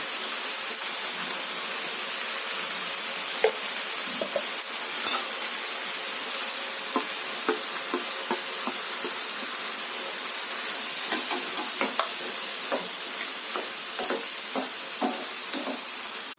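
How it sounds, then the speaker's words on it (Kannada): Brinjal and tomato frying in a pan, a steady low sizzle and hiss throughout with small scattered clicks and scrapes of a spatula, no voices. "ಈಗ ಇದೊಂದು 3-4 ನಿಮಿಷದಷ್ಟು ಚೆನ್ನಾಗಿ ಫ್ರೈ ಆಗಲಿ"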